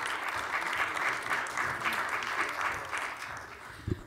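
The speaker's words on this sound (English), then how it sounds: "let's give a round of applause for Mayor Rawlings Blake" An audience at a women-in-sports lunch event in Baltimore applauds the mayor: steady, dense clapping from a sizable crowd throughout, fairly close, with a soft thump near the end.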